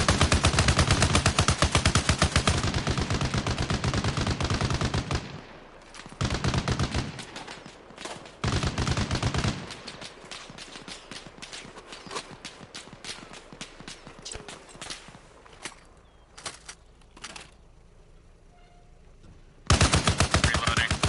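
Firefight in ARMA Reforger: long loud bursts of automatic rifle fire near at hand, broken by pauses, scattered single and distant shots trading back and forth, then another heavy close burst at the end.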